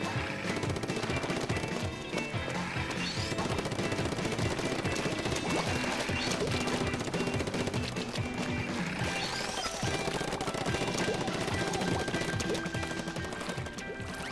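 Rapid, continuous ink-gun fire in the Nintendo Wii U video game Splatoon during a Splatfest match, dense and steady throughout amid busy game effects and music.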